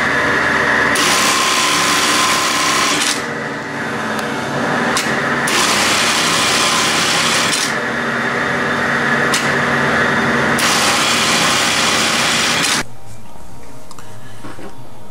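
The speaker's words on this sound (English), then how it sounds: "you're going to see an automatic bartack machine doing a very similar box and cross pattern" Automatic bartack machine sewing a box-and-cross pattern on webbing, a loud, close motor whine with rapid needle chatter that shifts pitch in stages and stops abruptly, leaving a quieter hum.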